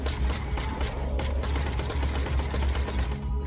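A machine gun fires in the Industria video game trailer, a fast, steady mechanical rattle that runs loud and unbroken for a few seconds before cutting off.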